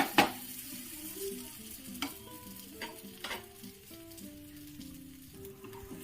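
An aloo paratha sizzling in a pan just after being flipped, a soft steady crackle with a sharp clatter at the start and a few light scrapes, fairly quiet and close with no talking.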